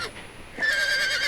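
A short, high horse whinny with a wavering pitch sounds close by over a soft background hum.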